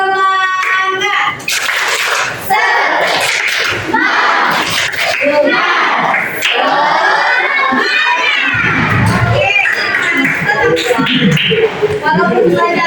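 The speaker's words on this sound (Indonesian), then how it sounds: "Kita tepuk semangat terlebih dahulu." Schoolchildren in an Indonesian classroom loudly chant and clap a rhythmic tepuk semangat routine together, their voices and hand-claps filling the room in bursts, with a teacher's voice leading among them.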